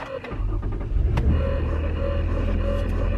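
A car engine is cranked and settles into a steady low idle rumble inside the vehicle, close and continuous, with no talking.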